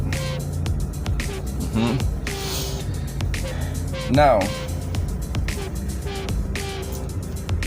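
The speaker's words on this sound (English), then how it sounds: "now let's start the car and see." A Suzuki Swift with automatic transmission idles after starting, its engine a steady low hum running continuously beneath someone talking nearby.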